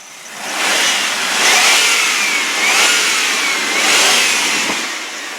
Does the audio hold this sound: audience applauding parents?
no